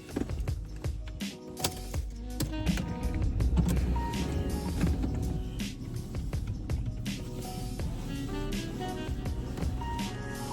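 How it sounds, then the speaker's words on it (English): A Mercedes-Benz car engine starting and running, heard from inside the car as a low, steady rumble with clicks, taps and small mechanical knocks scattered throughout, moderately quiet and with no talking. "Now, I'm gonna start the engine."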